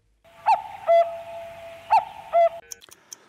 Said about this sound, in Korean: 뻐꾸기 소리 주세요